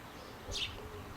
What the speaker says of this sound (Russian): Вот голубь беспарный отбивает эту голубочку.